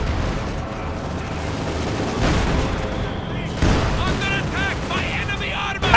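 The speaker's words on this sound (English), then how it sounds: "Panzerfaust fails to penetrate the frontal armor of the Ashley 5" Battle noise in Company of Heroes 2: a Panzerfaust fires at an SU-85 tank amid scattered gunfire and booming impacts, continuous and fairly loud with sharper blasts near the end, with a commentator talking over it.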